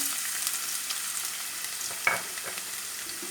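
Carrots dropped into hot oil in a pan, the start of a peas-and-olive-oil dish: a steady sizzle and crackle with one sharp clatter partway through, no voices.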